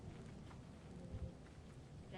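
Thunder rolls low in a rainy storm in the video game Lethal Company, a faint, muffled rumble swelling briefly under a steady hiss of rain.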